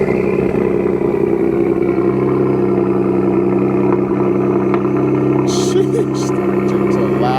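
Cold start of a cammed 5.7-liter Ram 1500 pickup with a 6-inch lift, the engine running loud and steady with a lumpy, choppy idle throughout, close to the listener.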